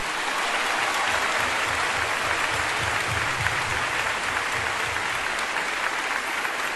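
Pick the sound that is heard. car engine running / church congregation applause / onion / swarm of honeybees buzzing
church congregation applause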